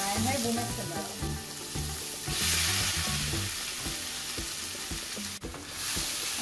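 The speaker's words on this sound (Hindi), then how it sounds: "ये डाल के मुझे अब इसको अच्छा सा भून लेना है तेल में" Carrot halwa fries in hot oil with cardamom in a pan, a loud, continuous sizzle with stirring close by that keeps an even level throughout, along with a brief scrape near the end.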